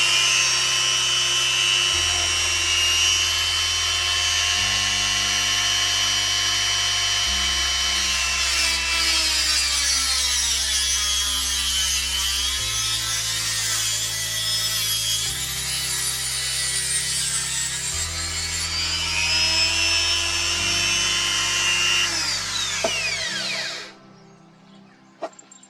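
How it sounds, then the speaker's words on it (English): A metal hawk bell being cut with a hand tool, a continuous rasping saw stroke with a ringing metallic tone, steady and close before it stops abruptly near the end. "As you can hear there, that is just a small cut, and we're starting to get a ring."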